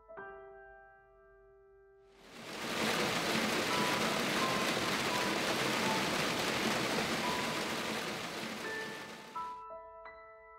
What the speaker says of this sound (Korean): 창밖엔 빗방울이 떨어지기 시작했다.